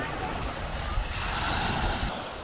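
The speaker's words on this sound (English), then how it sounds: "The sea is quite choppy," Choppy sea waves wash and churn at Cala Torta on Mallorca, a continuous loud roar of surf mixed with gusty wind buffeting the microphone.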